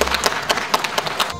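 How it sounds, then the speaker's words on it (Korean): An audience at a regional cultural-day award ceremony in a performing arts hall claps for the honorees, a short burst of fairly loud, slightly uneven clapping with distinct individual hand strikes. "우리 수상자들께 다시 한번 뜨거운 박수"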